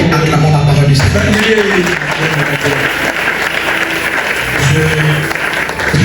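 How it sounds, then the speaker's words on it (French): A church congregation breaks into sustained clapping, a dense wash of applause with voices singing or speaking over it throughout. "Acclamons la parole du Seigneur."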